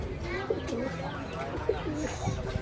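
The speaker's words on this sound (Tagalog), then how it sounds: "ibon ni attorney" Soft, throaty cooing from a blue bar pigeon repeats a few times against steady background noise and some faint chatter, close by and moderately loud.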